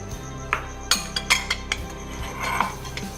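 Cumin and carom seeds go into a pan: a metal spoon clinks and taps against the cookware several times in quick, uneven strikes, close and fairly crisp, with no talking.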